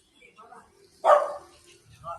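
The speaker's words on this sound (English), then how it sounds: "they call this kind of dog a little yellow" A small yellow village dog in Changxi, She County, Huangshan, China, gives a single short bark, close and fairly loud, among quiet voices in the background.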